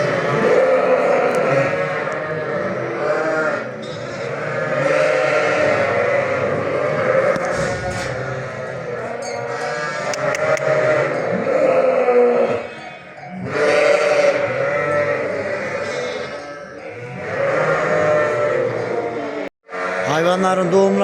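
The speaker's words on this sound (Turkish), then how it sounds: "Davarımız kuzlamaya başladı. İnşallah sağ selamat koyunlarımız kuzlar." Sheep and newborn lambs bleat in a pen during lambing, loud overlapping calls that go on almost without a break, with a short pause near the end.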